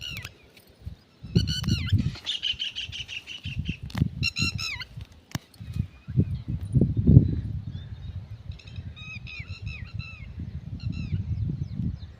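A bird calls out in alarm with harsh, repeated squawking bursts as a crow approaches its eggs near a farm field; the cries come in several distinct rising clusters over a steady low rumble of wind or handling noise.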